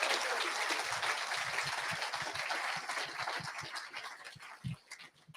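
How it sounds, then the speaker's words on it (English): Audience applause fills a Melbourne event hall, a dense broadband wash of many hands clapping that holds steady and then thins out toward the end, with a few louder individual claps near the close. "give yourselves a round of applause for surviving what you've been through."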